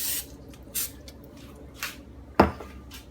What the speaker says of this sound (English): I'm going to spray the pan with cooking spray.